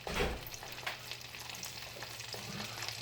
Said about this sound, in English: Butter in the oil.